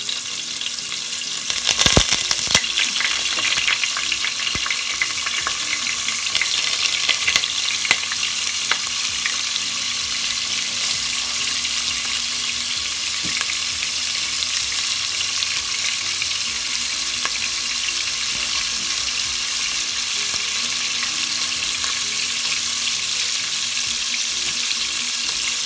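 Oxtail and pork pieces fry in a pan with a steady close sizzle, a few stirring clatters early on, then a continuous even hiss with no voices.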